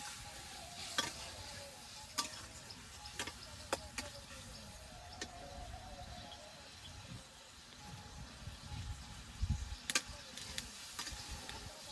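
Ginger, cumin and spice paste frying and being stirred in a pan, a low steady sizzle broken by sharp clicks and scrapes of the spoon at irregular intervals, nearby and unvoiced.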